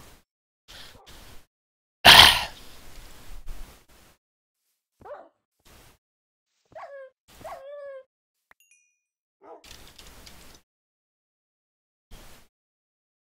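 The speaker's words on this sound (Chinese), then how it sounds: "狗狗算什么？ 小柴狗而已啊！" A Shiba dog in a Minecraft map lets out scattered short barks and thin, whining whimpers among quiet pauses, with a loud burst of noise early on and faint game chimes.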